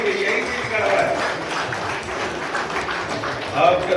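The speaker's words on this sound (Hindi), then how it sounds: "तालियां बजती रहनी चाहिए" Audience applause at a school farewell and welcome ceremony for Kasturba school staff: a steady wash of clapping with a swell near the end, and a voice speaking over it.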